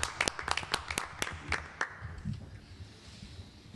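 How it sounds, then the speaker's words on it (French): A few scattered hand claps at a meeting, a quick burst of sharp claps up front that thins out and fades within about two seconds, leaving quiet room tone and faint murmuring. "Alors, on vous applaudit,"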